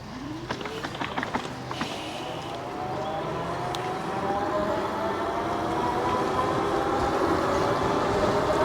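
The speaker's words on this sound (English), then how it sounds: "Now I'm gonna just use the throttle only." An e-JOE JADE electric bike ridden on throttle only, its motor whine rising steadily in pitch as it speeds up, with wind and road rumble and a few early clicks, no talk.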